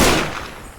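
A single loud burst of AK rifle fire in the video game Teardown, a sharp blast that decays into a fading rumble within a second.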